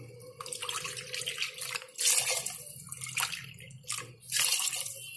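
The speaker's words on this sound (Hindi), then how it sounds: "अब इसमें हम पानी डाल देंगे" Water pours into a pan of vegetable pulao rice as it cooks, a steady splashing stream in several bursts, close and fairly loud, with no talking.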